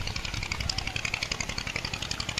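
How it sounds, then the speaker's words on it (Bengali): A bhatbhati, a small motorised vehicle, chugs past with a steady rapid engine putter and a rattling, clattering beat, fairly close and continuous, with wind noise underneath. "এই একটা যেমন ভটভটি আমাদের চোখের সামনে দিয়ে কত দারুণভাবে যাচ্ছে"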